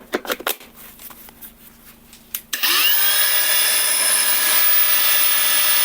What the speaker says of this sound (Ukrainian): ми зараз провіримо для вас, на яких же батарейках вона працює